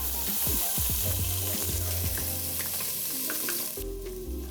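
Onions go into a pan of browned potatoes for beef and potato githeri, a loud close sizzle that flares up with clattering and stirring before settling, with no voices.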